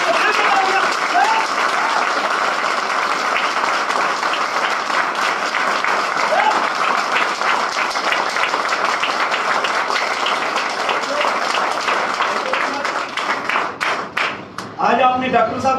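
Sustained applause from an audience at a grocery launch event in a Ludhiana hall, loud, dense clapping filling the room for the whole stretch, thinning into scattered claps near the end.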